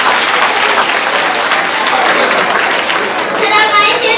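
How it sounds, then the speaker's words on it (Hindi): Loud, dense applause from a room of students at a scholarship test event, continuous clapping with some chatter mixed in, near and sustained throughout. "ताली बजाओ पहले"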